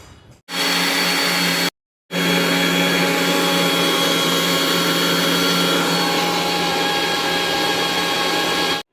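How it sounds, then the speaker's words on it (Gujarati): A mixer grinder blends mango pieces into juice with a loud, steady, close whir that stops briefly, then runs again without change. "હવે આપણે એને મિક્સરમાં ગ્રાઇન્ડિંગ કરી દઈએ, રસ રેડી થઈ જશે આપણો"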